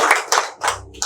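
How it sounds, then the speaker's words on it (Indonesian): Audience at an anti-corruption discussion event claps in a few short, uneven bursts with gaps between them, close and fairly loud, no talking over it. "Tepuk tangan dong"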